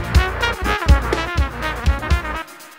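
Punchy kick drum hits with a sharp clicky attack, repeating in a steady groove with a sustained bass tone underneath, loud and close, ending in silence.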